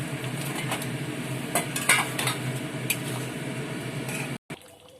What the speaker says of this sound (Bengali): তেল ছাড়তে শুরু করেছে, চিকেনগুলো দিয়ে দিলাম